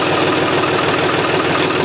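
A John Deere 5210 Gear Pro tractor engine runs with a 7-foot Landforce rotavator attached, giving a steady, loud, continuous rumble with a rhythmic low throb and no talking.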